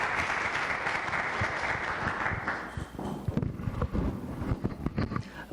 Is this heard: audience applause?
yes